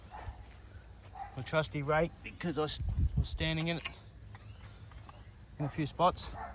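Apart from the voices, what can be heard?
dog barking in the distance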